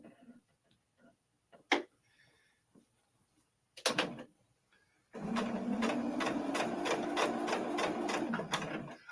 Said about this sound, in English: I can't believe I'm actually sewing something.